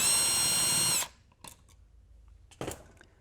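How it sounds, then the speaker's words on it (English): A power drill whirs steadily for about a second while backing out the mounting screws of a wall plate on an in-wall dimmer switch, then stops, followed by a few faint handling clicks. "You can remove the mounting screws."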